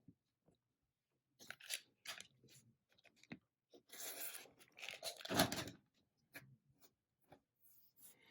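Quilting fabric being cut along a quarter-inch seam line for a New York Beauty block, heard as short crisp crunching and rasping strokes in separate bursts, with a denser stretch of cutting in the middle and no talk.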